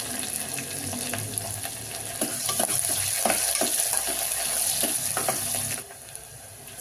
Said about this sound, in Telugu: వేగినాక పెద్ద సైజు ఉల్లిగడ్డ సన్నగా కడిగి వేసుకోవాలి.